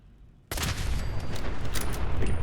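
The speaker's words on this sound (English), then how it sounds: "Big explosion." A big explosion goes off in Fallout 4, a sudden loud blast that hits at once and then rolls on as a dense, sustained roar of crackling debris and rumbling fire with no voices over it.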